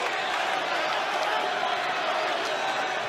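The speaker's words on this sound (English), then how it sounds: "Crowd really baying here." Arena crowd at a professional boxing match, Nigel Benn versus Chris Eubank, keeping up a steady, dense roar of voices late in round five, loud and continuous throughout without distinct claps or speech.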